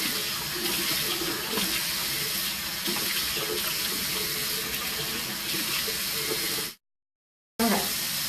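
Warm water runs steadily from a sink tap while someone washes their face, a continuous close splashing hiss that cuts out abruptly near the end before briefly resuming.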